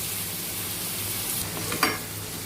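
Tomato paste sizzles steadily in a hot pan of Andhra pulusu, a constant close frying hiss with a brief stir or clink near the end.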